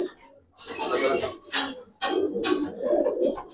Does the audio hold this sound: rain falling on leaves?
no